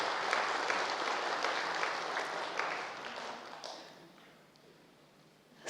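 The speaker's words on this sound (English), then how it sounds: "Clap for yourself, definitely." Large gathering at a welcome session in Gyan Sarovar, Mount Abu, applauding in a dense, even wash of clapping that gradually thins and fades out.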